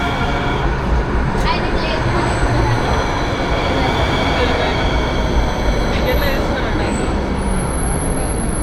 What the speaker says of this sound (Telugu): ట్రైన్ వచ్చింది ఎక్కిపోదాంపా.